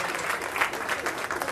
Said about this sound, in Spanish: ¿Cuántos le dan aplauso fuerte a Cristo?